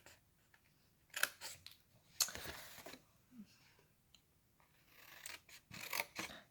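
Scissors snip paper at a bevel for a folded triangle gift box, a few quiet, close cuts and crisp snips separated by soft paper rustling.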